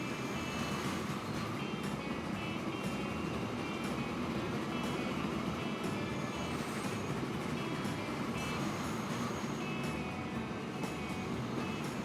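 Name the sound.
steam train in the video game Transport Fever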